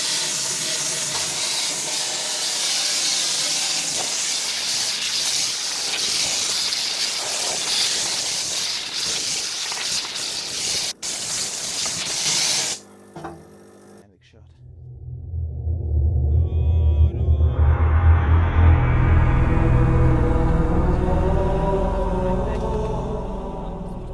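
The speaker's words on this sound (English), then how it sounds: "I just filmed a video of me cleaning this with the Parker steam water jet" A loud, steady jet from a Parker steam water jet cleaner hisses for about twelve seconds while cleaning a Kitamura CNC machine, then cuts off briefly before a deeper rumbling spray and motor noise start again.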